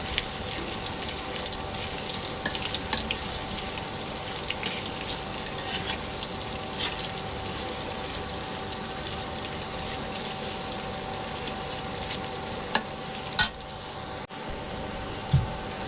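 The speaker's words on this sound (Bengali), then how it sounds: "তেলের মধ্যে পেঁয়াজ দিয়ে দিছি, পেঁয়াজ ভাজি নিতেছি।" Onions frying in oil give a continuous close sizzle with scattered crackles and a few sharp pops or utensil knocks near the end; no voices.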